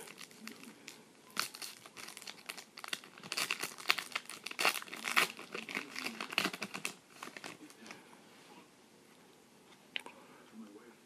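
Crinkling and tearing of a 2013 Bowman Chrome football card pack wrapper being opened by hand, a run of close, dense crackles and rips with a few sharper bursts, then quieter handling near the end.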